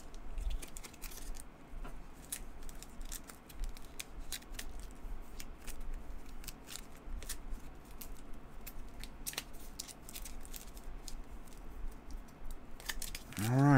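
Cards from the Rambo board game are shuffled by hand in a quiet room, giving a faint, continuous run of soft riffling and crisp snapping clicks close by, with no talking.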